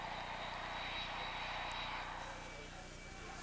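A passenger airplane drones in flight, a broad steady roar that stays loud and then eases slightly toward the end, with no other sound above it.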